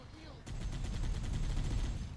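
Rapid gunfire from the video game Halo, a dense burst of repeated shots starting abruptly and running steadily at close range, with game voices underneath.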